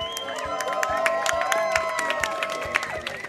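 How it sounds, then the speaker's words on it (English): Crowd applauding and cheering at a live speedrunning event in Boston, dense steady clapping with whoops and shouts, loud and continuous, while an amplified voice carries on over it. "crowd, give yourselves a round of applause right here"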